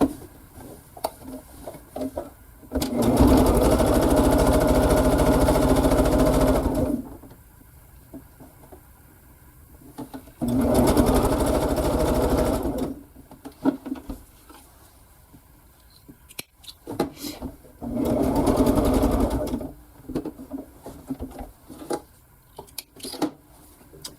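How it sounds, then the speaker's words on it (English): A sewing machine stitching scrappy quilt pieces together, running in three steady motor bursts of several seconds each with quieter handling sounds between, close and loud. "I'm going to have to go ahead and sew this other one on"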